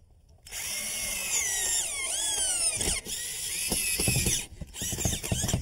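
A power drill drives a screw through wooden shims while a fiberglass door is being installed, a loud, steady whining run broken by brief pauses and changes in motor pitch, close up with no talking.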